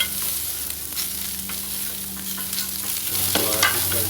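Smash burger patties sizzle on a Blackstone 22-inch griddle, a continuous hiss broken by the scrape of a spatula spreading them flat. A louder scrape comes near the end.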